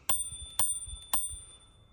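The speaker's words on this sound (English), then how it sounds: "a little bell" Three crisp dings from a small handlebar bell on a Caroma E22 Pro electric scooter, each strike bright and ringing with a short fading tail, evenly spaced about half a second apart, close and clear with no talk.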